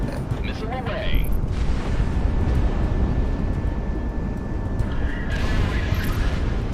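A missile launches and explodes in the jet combat video game Project Wingman, a loud roaring rush and boom over a constant heavy jet engine drone, with people talking.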